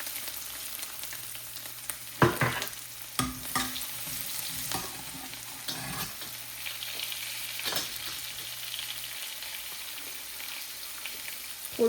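Mustard seeds, cumin, asafoetida and garlic crackle in hot oil for a cluster bean curry, giving a steady close sizzle broken by occasional scraping stirs and louder spits.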